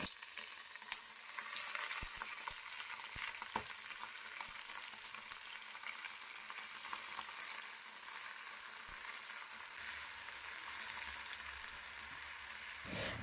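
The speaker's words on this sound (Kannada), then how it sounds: "ಎಣ್ಣೆ ಒಳಗೆ ಸ್ವಲ್ಪ ಅದನ್ನು ಫ್ರೈ ಮಾಡ್ಕೊಂಡಾದ್ಮೇಲೆ ಇದಕ್ಕೆ ನಾನು ತೊಳೆದು ಇಟ್ಕೊಂಡಿರೋಂಥ ಪಾಲಕ್ ಸೊಪ್ಪು ಹಾಕ್ಕೊಳತ್ತೀನಿ" Spinach fries in oil in a pan, a dense crackling sizzle like light rain that runs throughout, with scattered sharp pops and utensil taps, heard up close without speech.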